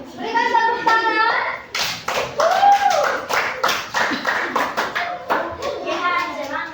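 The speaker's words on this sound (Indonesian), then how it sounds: "Berikan tepuk tangan." Classroom of students clapping for a student group, giving a lively, rhythmic burst of many hands close by, with children's voices and chatter mixed through the clapping.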